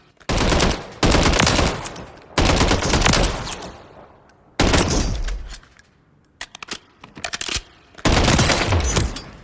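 Bursts of CZ BREN rifle fire in Call of Duty Modern Warfare III, several loud sustained volleys with short pauses between them, close and punchy, with no talking.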